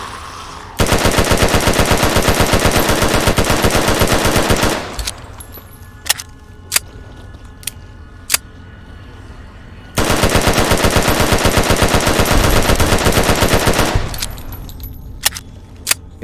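Machine gun fire in the modded PC game Fallout: New Vegas comes in two long, loud, rapid-fire bursts of about four seconds each. Between the bursts, a few sharp single clicks and shots sound over quieter game noise.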